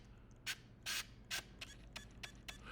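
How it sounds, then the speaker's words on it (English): Autofocus motor of a Nikon F4 35mm SLR camera, heard as a series of short whirring, ratcheting mechanical bursts, several louder ones followed by quicker, fainter ticks. Close and quiet, with no speech. "You have also the sound of the focus."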